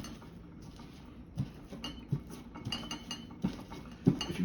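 Garlic cloves being smashed for a chicken sandwich, a run of sharp, close knocks and clinks against a hard kitchen surface, irregular and fairly quiet, no talking.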